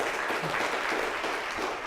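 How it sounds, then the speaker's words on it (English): Audience applause for a guest speaker at a university speaker series, a steady dense wash of clapping lasting under two seconds with no voices on top. "Let's get another big round of applause for Grant."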